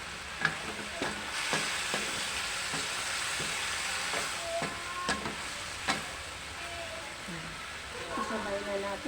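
Tofu (tokwa) fries in a pan for binagoongang talong. A steady close sizzle runs throughout, broken by clacks of stirring, while someone talks over it.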